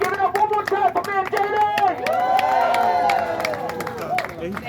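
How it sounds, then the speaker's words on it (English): At a political rally for Mayor Kim Janey, the crowd breaks into applause mixed with high whoops and cheers, sustained and loud, with voices calling out through the clapping. "Let's give a big round of applause to our mayor, Kim Janie."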